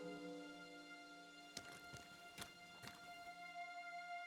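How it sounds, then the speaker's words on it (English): Several horses arrive in Kingdom Come: Deliverance II, their hooves clip-clopping in a short run of four or five distinct steps over a steady ambient game background, with no talking. "The horses are here."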